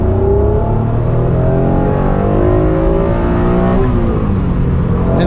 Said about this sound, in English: And this car just loves to be revved.